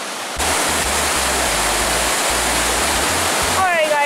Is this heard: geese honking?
no